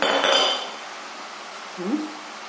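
Turmeric and spice powder being stirred in a metal pan, a short clinking scrape of a utensil against the pan up close, then a brief quieter scrape after a pause.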